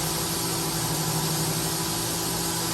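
Spindle of a 2007 Fanuc Robodrill T21iFL CNC vertical machining center running at about 10,000 RPM, a steady, even whine with a constant hum beneath, close and unbroken.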